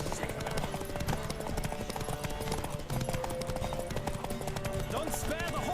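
Horse hooves clop in a steady, fast galloping rhythm in the video game The Witcher 3, loud and continuous beneath a dense layer of game sound throughout.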